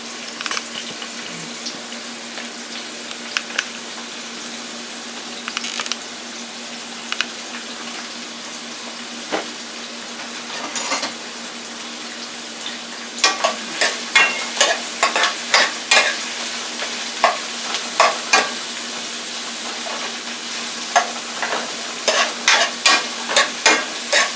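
Onions frying in a Power Pressure Cooker XL, a steady soft sizzle beneath repeated scraping and clattering strokes of a utensil that grow busier toward the end, near and alone.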